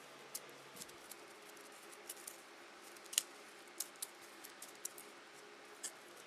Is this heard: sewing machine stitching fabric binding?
no